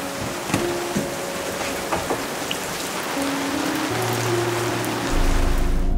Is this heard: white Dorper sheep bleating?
no